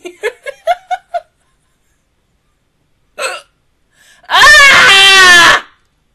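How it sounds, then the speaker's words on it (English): Hiccups from an anime character come first as a quick run of five small, sharp hiccups. After a pause there is a single hiccup, then a longer drawn-out wailing vocal sound, all close and clear. "Hiccups."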